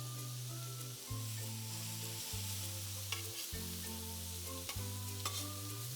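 Garlic and vegetables stir-fry on a hot griddle, a faint, even sizzle with a few light scrapes, partly covered by louder music with a stepping bass line.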